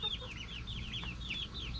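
Faint, repeated clucks and soft chirping calls from a flock of chickens, including newly introduced birds and young chicks, come in quick overlapping bursts over a low background hum.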